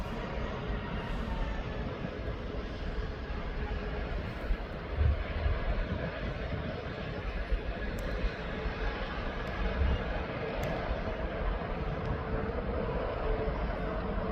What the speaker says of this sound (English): So this TUI might just turn and burn as this VistaJet is making his way in.